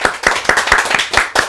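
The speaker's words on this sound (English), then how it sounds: "They could clap too." Studio audience clapping in a series of sharp, fairly close claps, several quick rounds with brief gaps between them, no talking.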